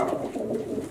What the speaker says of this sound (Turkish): Abi burada Fahrettin kuşları, damarı var burada